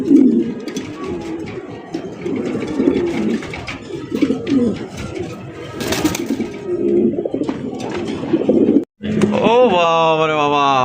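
Several pigeons coo in deep, rolling bursts nearby while someone talks over them; a sharper bird call rises at the end.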